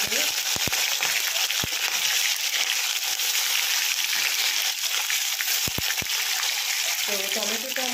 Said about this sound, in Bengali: টমেটোটা আমার মোটামুটি প্রায় ভাজা হয়ে গেছে।